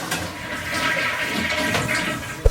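A flushing toilet in a small rental studio apartment, a close, rushing gush of water draining steadily for a couple of seconds before ending with a short thump, with no talk.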